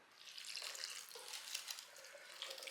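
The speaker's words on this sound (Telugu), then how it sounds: "ఇప్పుడు దీంట్లో ఏం చేయాలంటే బాగా మరిగిన నీళ్ళు పోయాలండి" Boiling water is poured onto soya chunks (meal maker) in a bowl, a soft continuous splashing trickle with faint bubbling, close and quiet throughout.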